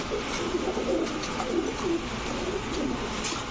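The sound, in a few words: Giribaz pigeon cooing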